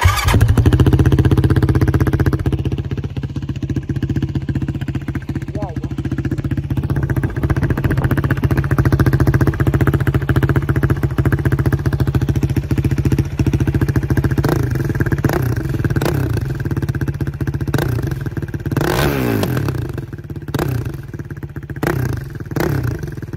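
A carbureted Yamaha YFZ 450 quad bike engine idles with a steady, close rumble, punctuated by a few sharp revs and clattering mechanical noise.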